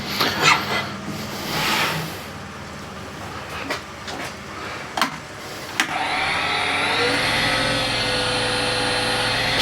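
A woodturning lathe with a newly installed spindle starts up partway through and runs as a steady motor whine and hum, following earlier knocks and clicks.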